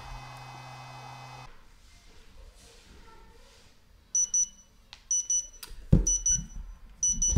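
A C240 Duo LiPo battery charger beeps to signal charging is complete, giving short repeated electronic beeps in several bursts after a quiet stretch with faint background noise.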